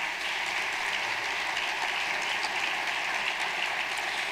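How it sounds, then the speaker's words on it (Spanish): An audience applauds at the closing ceremony of an award presentation. The sustained clapping is even and moderately distant, with no talking over it. "Un aplauso también para ellos."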